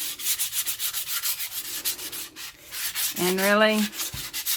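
Rhythmic rasping strokes of sanding on a gessoed MDF board repeat steadily up close, with a person briefly speaking over it near the end.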